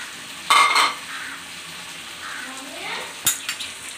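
Fried paneer tipped into a potato and kabuli chickpea curry in a pan, with a steady sizzle under a loud clattering stir near the start and another sharp scrape toward the end; no voices.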